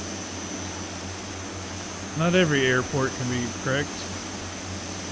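A steady, droning engine hum from a DHC-6-300 Twin Otter in the flight simulator FSX holds constant at half throttle, with someone briefly talking over it.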